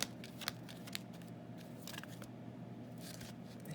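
Tarot cards shuffled and drawn, a few crisp slaps at the start followed by quiet, continuous riffling and sliding of cards, close and soft.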